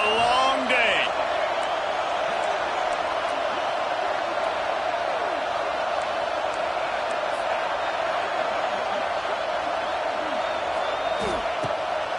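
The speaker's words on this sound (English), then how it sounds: "This crowd, full throat, splitting the eardrums and letting them know it's going to be a long day." A college football stadium crowd roars continuously at full volume for several seconds, a dense, sustained wall of noise with a few sharp whoops and bangs on top.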